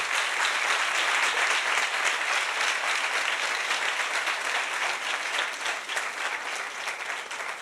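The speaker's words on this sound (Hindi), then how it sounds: "जोरदार ताली।" A church congregation bursts into dense, sustained applause during a sermon, loud and even throughout before easing slightly toward the end.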